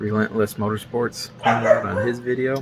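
A dog barks and yips indoors while someone talks continuously over it, the dog's short calls partly masked by his voice.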